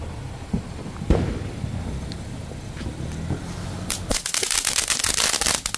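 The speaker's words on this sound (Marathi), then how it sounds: "पहिले मावशी फटाके फोडत." Diwali firecrackers go off outdoors, a few sharp distant pops over wind noise, then a dense crackling burst of rapid bangs close by toward the end.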